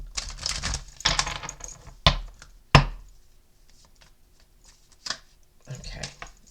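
Several quick riffling bursts of cards being shuffled, with a couple of sharp slaps, near and fairly loud, then quieter handling.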